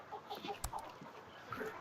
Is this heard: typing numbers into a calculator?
no